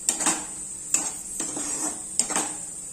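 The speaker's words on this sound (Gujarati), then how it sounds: "અંદર આપણે થોડા કેપ્સિકમ નાખી દઈશું, એને પણ થોડા સાતરી લઈશું" A spatula scrapes and clanks against a metal pan several times while capsicum and onion sauté for pav bhaji, with a steady faint sizzle beneath the close, bright strikes.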